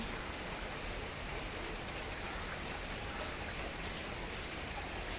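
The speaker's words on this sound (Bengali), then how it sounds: "বৃষ্টি পড়ছে কত জল হয়ে গেছে" Steady rain falls continuously, a soft, even hiss of drops hitting surfaces with no pauses, faint and constant throughout.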